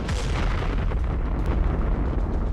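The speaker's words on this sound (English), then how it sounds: "Shots fired from a TOW." A TOW missile launched from a Bradley strikes Russian APCs, giving a loud, continuous roar of blast and rumble with dense broadband noise and no clear pauses, close and alone.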